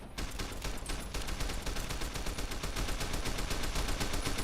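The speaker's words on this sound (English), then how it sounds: "there's some crazy ricochet going on right now" Sustained rapid gunfire with ricochets in Fallout New Vegas, a dense unbroken stream of loud shots rattling steadily throughout.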